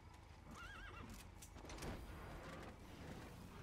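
Horse hooves clip-clopping with a whinnying neigh in Metal Gear Solid V: The Phantom Pain, the hoofbeats steady and close over a busy game soundscape, no talk.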